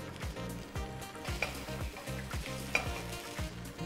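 Tomato paste being sautéed in a pan, a loud close sizzle with a spoon stirring and scraping in a steady repeating rhythm and a couple of sharp clinks, with no voices.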